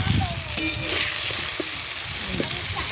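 Dal with ginger and garlic cooks in a pot at an outdoor village picnic, sizzling loudly while being stirred, with scraping knocks and faint voices in the background.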